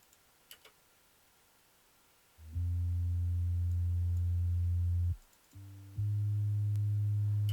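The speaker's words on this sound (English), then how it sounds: "It's just saws detuned, one at a higher octave than the other." Detuned saw synth bass, two saws an octave apart, panned left and right in an intro: two long sustained buzzing notes separated by a brief gap, loud and alone.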